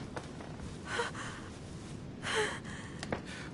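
A woman breathes heavily in The Council video game, with two distinct gasping inhales about a second apart amid quieter, steady breaths.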